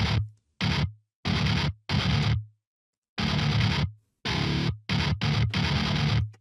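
Baritone guitar played straight through an amp and cab simulation with no pedals, a series of loud, chunky strummed chords and short bursts separated by brief silences, alone with no talking.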